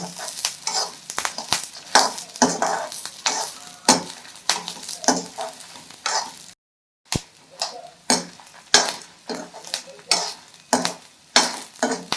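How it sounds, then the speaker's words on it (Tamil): Rice dry-roasting in a pan is stirred with a utensil, giving repeated scraping and rattling strokes in an irregular rhythm, close-up, with a brief silent gap midway and no speech. "அந்த அரிசி பார்த்தீங்களா இப்படி வறுத்துடணும்"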